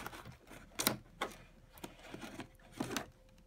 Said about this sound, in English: I'll just grab my scissors out here,